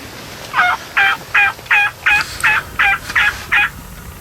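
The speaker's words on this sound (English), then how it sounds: "At least 4 big toms strutting." A steady series of nine clipped, rhythmic calls from a wild turkey, loud and fairly close, repeating at an even pace with no talking, during a Nebraska hunt.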